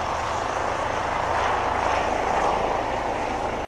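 A medical life-flight helicopter drones steadily with a loud, continuous rotor and engine roar that stays constant throughout before cutting off abruptly at the end.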